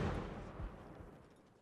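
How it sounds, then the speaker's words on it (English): Cannon fire in Mount & Blade: Napoleonic Wars during a battle with French troops: a low, distant boom that fades into a long rolling decay, faint and muffled. "The cannon is firing."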